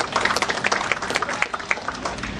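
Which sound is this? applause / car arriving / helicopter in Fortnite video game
applause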